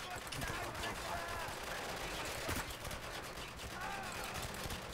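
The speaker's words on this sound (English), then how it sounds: "Ooh, that was a shotgun." Shotgun blasts and other gunfire in the video game Spec Ops: The Line, a dense continuous barrage of shots under a noisy mix, with talking over it.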